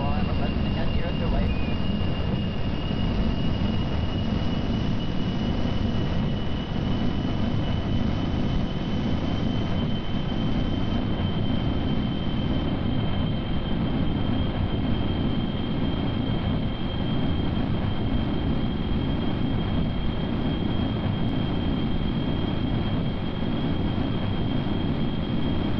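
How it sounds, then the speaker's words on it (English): A seaplane's jet engine in Kerbal Space Program gives a steady, loud roar with a thin high whine on top, holding constant throughout while someone talks over it. "So, enable the jet and see how that goes."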